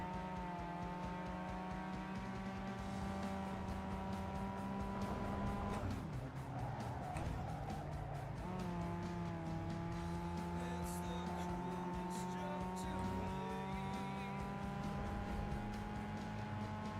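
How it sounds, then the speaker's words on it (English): Racing car engine revving with shifting pitch over steady game music, with a brief skid or tire squeal midway; no talking. "I want to hear the car over the game."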